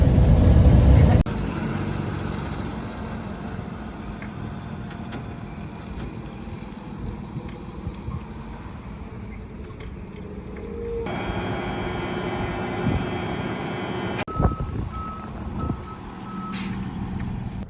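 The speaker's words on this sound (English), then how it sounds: "My very first time in a tow truck." A tow truck's engine runs with a steady low rumble while driving on a mountain road. Repeated electronic beeps sound near the end, and a voice may be faintly heard.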